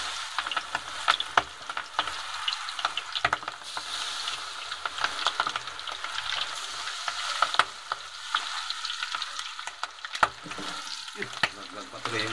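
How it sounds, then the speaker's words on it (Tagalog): Crispy chicken pieces frying in hot oil, a steady close crackling sizzle with sharp pops and occasional metallic scrapes of stirring utensils, no voices. "Piprito na."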